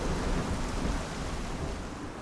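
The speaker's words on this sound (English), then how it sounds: "the wind and rain began to grow more fierce and violent" A fierce storm with heavy rain and gusting wind roars steadily as a dense, loud wash of noise, with no voices over it.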